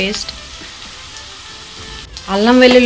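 Ginger-garlic paste hits hot oil in a pan of ivy gourd curry, giving a loud, steady sizzle that continues before a voice starts speaking near the end.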